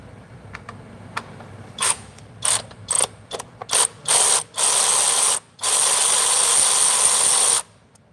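A hand ratchet clicks in short bursts, then in two longer runs, while bolts are driven back into the transmission of a 2020 Chevrolet Malibu. The sound is close and crisp against a quiet shop background.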